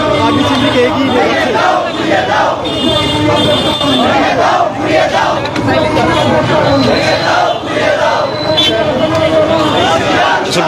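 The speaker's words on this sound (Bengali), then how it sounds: "আমেরিকার দালালেরা হুঁশিয়ার সাবধান স্লোগান দিয়ে দিয়ে তারা এগিয়ে যাচ্ছেন।" Large protest march crowd in Dhaka chanting political slogans in unison while moving forward, a dense, loud and continuous roar of many voices with rhythmic shouted chants filling the street.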